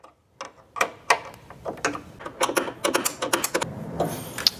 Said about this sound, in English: we're going to secure them using the provided nuts. And this is a number 11 wrench